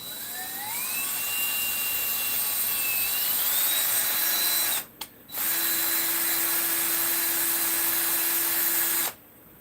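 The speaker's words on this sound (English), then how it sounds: "run my tap through it real quick." A thread tap whines through a bushing in a workshop with a high, steady drilling tone that rises in pitch, breaks off briefly, then resumes before stopping abruptly near the end.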